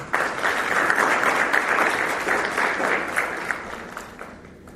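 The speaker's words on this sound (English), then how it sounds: "Please give her a big round of applause." Audience applause at a women-in-ICT talk as a speaker is welcomed: a dense, steady burst of clapping from a room of people, fairly loud and continuous, fading toward the end.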